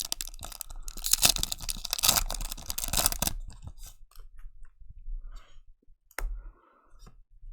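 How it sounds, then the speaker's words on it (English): Trading card booster packs are torn and crinkled open, with a loud burst of ripping foil and paper at first, then scattered clicks, rustles and a short sharp tear near the end. "just opening up some boosters here"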